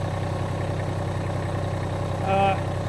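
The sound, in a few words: Massey Ferguson GC1710 tractor engine running at 2,300 RPM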